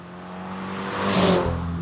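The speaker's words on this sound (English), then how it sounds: "this exhaust drones" A 2026 Toyota GR86 Yuzu Edition exhaust drones steadily from inside the car while driving, a low sustained hum that swells slightly in the middle with a faint rising whine, no talking over it.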